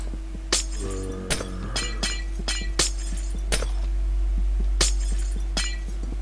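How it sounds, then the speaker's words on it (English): Glass blocks shattering in Minecraft as a diamond sword breaks them, a run of sharp crisp clinks and breaks spaced irregularly over a steady background hum, fairly close and moderately loud. "I think what it's getting at is that we have to break every piece of glass."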